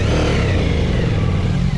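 A motorcycle revs hard and accelerates away from a stop sign on a San Francisco street, a loud, close engine roar that builds over a couple of seconds with no talk over it.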